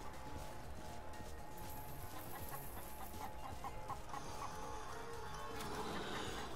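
Chicken clucking in the Call of Duty Black Ops Dead Ops Arcade video game, a quick run of short clucks over busy game sound and music.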